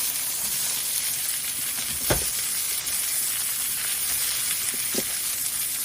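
Steak sears in a hot pan with a steady, loud sizzle and hiss, broken by a few sharper pops and spits.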